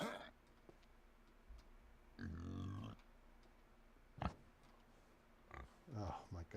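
Pigs being punched in the medieval survival game Medieval Dynasty, a few dull thumps and a sharp click mixed with squealing grunts, spread unevenly across a quiet stretch.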